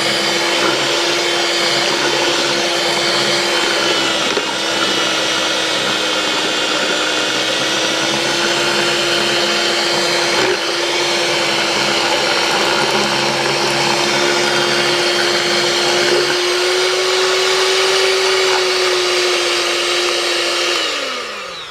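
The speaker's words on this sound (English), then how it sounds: "the handheld blender will blend it" Handheld blender whirring continuously in a bowl of xanthan gum mixture, a steady loud motor whine that holds for a long stretch, shifts pitch slightly near the end and then winds down.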